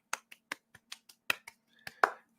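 Crisp finger snaps ring out as camp-style applause from an audience, about ten sharp separate snaps in an irregular patter over two seconds, close and clear.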